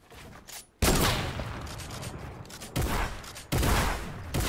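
Gunfire in the video game Fortnite, bursts of rapid shots and loud blasts arriving in several distinct volleys separated by brief quieter gaps.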